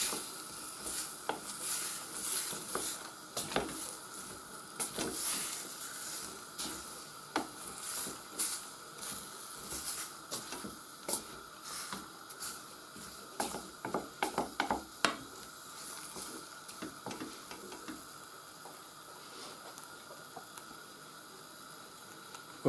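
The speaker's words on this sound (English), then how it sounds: "And to finish it off, the rhubarb. And this is now to simmer until it thickens." Rhubarb simmering in a pot, a soft ongoing bubble and hiss broken by occasional clinks and scrapes of stirring, quiet and close, with no talking.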